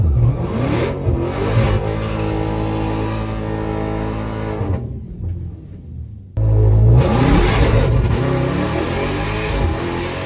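A Tesla Plaid and a Dodge Demon 170 accelerate on a hot lap. A deep, rumbling V8 engine climbs through its revs, drops off briefly, then surges loud and close again.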